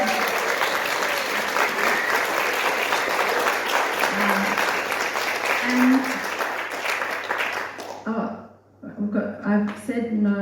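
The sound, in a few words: audience applause for the election candidates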